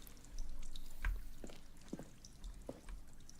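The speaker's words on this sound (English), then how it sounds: "There is water here." Water in the video game The Stanley Parable: soft drips and small liquid splashes fall irregularly over a faint low rumble, quiet and sparse.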